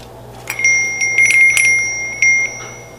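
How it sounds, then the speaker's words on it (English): A small handmade rustic copper bell chimes several times in clear, bright, close strikes with a ringing tone that lingers between hits, with no voices. "So it's like a little copper bell."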